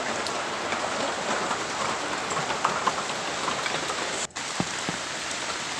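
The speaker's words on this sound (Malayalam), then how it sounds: "കുടയോടി മഴയത്ത് നിൽക്കുവാണേ വലിയ മഴയൊന്നും ഇല്ല ചൂളൻ മഴയേ ഉള്ളൂ" Light drizzle patters steadily on an umbrella held outdoors among garden plants, a dense, even hiss of fine drops with a few louder taps, close and continuous, with one brief break near the end.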